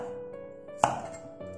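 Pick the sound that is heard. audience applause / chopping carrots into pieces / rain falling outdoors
chopping carrots into pieces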